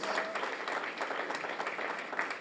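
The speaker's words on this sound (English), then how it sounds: "Let us give them a very, very loud round of applause." Spring graduation crowd for a community re-entry program claps together, a brief, even wash of many hands heard from a distance and fairly faint.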